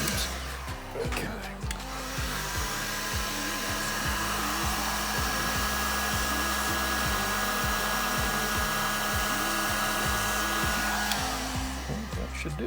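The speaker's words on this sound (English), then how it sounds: "That's all we need is the heat gun on a hot day." A heat gun blows steadily and loudly while shrinking heat-shrink tubing over battery wires, a constant whooshing roar with faint clicks and handling noises underneath, lasting throughout.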